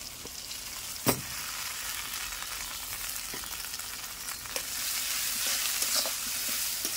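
A ground paste of ginger, garlic, onion, cumin, coriander, fennel and dried chili for chicken fries in a pan with a steady, close hiss that swells slightly. A few soft utensil knocks sound, with no talking.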